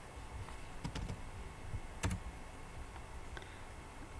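Keys clatter on a computer keyboard, quiet and close, in irregular scattered clicks over a few seconds with a couple of sharper taps.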